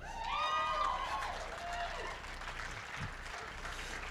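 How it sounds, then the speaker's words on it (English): Applause at an inclusivity summit event: a round of clapping mixed with cheering voices and a whooping shout at the start, fading into a softer, scattered patter from the crowd. "one more round of applause for Sterling"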